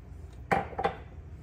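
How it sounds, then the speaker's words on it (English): Two quick clinks of a spoon against a bowl while milk is stirred into Bisquick dumpling batter, close and fairly quiet, with a soft pause between them and low room hiss around. "And then all you do is you're gonna stir it in."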